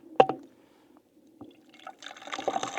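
Water from a B3 water filter runs into a bottle during a wild camp, a steady near trickle and splash building after a couple of soft knocks and drips.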